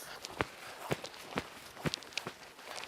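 Faint footsteps tread in a steady rhythm, soft and somewhat distant against a quiet background.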